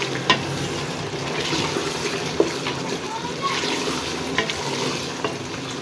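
Meat frying with yogurt in a pan for a mutton and peas curry, a steady close sizzle with stirring scrapes and small splatters running throughout, with no talk over it.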